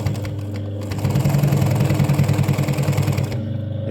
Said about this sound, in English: it's quite a lot of denim, and the machine just sews it like it's not even there